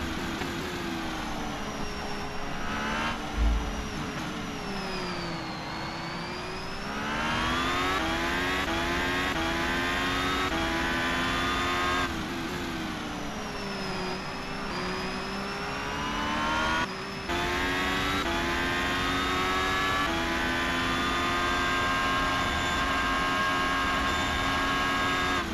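Formula race car engine in a sim racing game, heard at the Singapore circuit, revving and shifting continuously with rising and falling pitch sweeps as it accelerates and slows, loud and close throughout with no talk.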